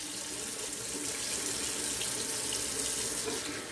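A tap runs steadily into a sink as someone rinses off, giving a constant close hiss and splash of water with no pauses.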